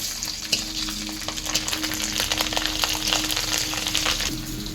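Dried and green chillies fry in hot oil, a steady close crackling sizzle with occasional sharper pops and stirring scrapes throughout, no voices.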